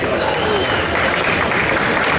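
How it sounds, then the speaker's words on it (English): An audience at the KTM 690 SMC-R unveiling at the 2018 EICMA press launch breaks into dense, sustained applause, loud and continuous throughout, with voices mixed into the clapping. "You're allowed to applaud."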